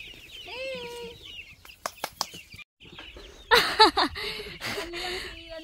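Chickens on a chicken farm in a Philippine province clucking and squawking, with a rooster-like call and bursts of loud agitated cackling, while people talk in between.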